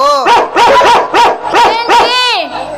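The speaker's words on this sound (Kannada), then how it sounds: "ಈ ಹುಚ್ಚ ನಾಯಿಗಳು" Several dogs bark in a quick, loud run of overlapping, nearby barks with yelping, whining tones, ending in a drawn-out howl-like cry.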